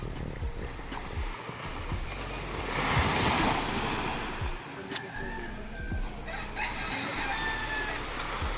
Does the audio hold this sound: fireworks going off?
no